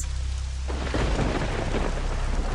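A deep roll of thunder swells up amid steady heavy rain, loud and close, with no voices.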